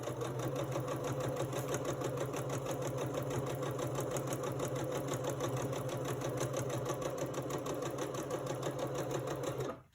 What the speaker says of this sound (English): I don't know if you can hear me when I'm sewing